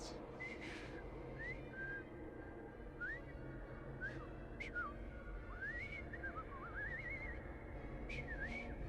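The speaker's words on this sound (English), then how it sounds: "Enough of your whistling." A character in the Assassin's Creed Syndicate video game whistles a wavering, halting tune of short rising and falling notes over a steady low background hum, fairly faint.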